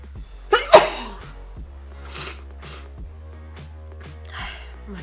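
One sharp, loud human sneeze bursts out close up early on, followed by a few quieter breathy sniffs and gasps in an indoor room, with a low steady hum underneath.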